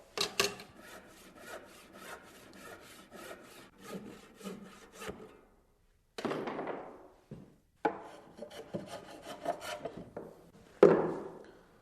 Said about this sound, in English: Saw this with a table saw, and this with a hand saw.